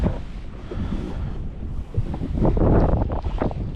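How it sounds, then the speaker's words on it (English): Wind gusting across open water beside a fishing boat out after spring crappie, a steady broadband rush that swells louder toward the end, with no voices. "The wind is picking up"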